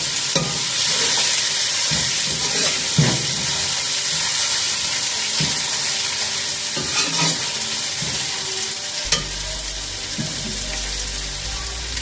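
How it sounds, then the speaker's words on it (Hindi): Karela dal chana fries in a pan with a continuous close sizzle, broken by intermittent stirring scrapes and clinks, and a low rumble rising near the end. "और इसे 1 मिनट के लिए कुक कर लेंगे ताकि इसका कच्चापन ख़त्म हो जाए।"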